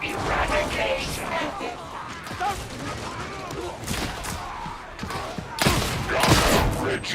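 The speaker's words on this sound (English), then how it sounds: "Shotgun attack for eradication." Video game shotgun fire: heavy, booming blasts and crashes in a dense, continuous barrage that stays loud throughout, with bursts of extra impact near the end.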